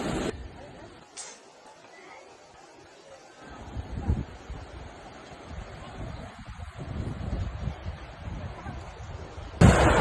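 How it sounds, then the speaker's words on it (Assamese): Wind blowing through trees at a resort gusts against the microphone in uneven low rumbles, growing stronger toward the end, with faint sounds in the background. "বতাহ কি ধুনীয়া মাৰি আছে চাওক গাইছ, উৰি আছে"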